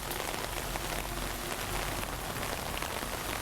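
Steady rain falls outdoors around a castle and wooden bridge in Gyoda City, a dense, even hiss of drops on surfaces throughout with no talking.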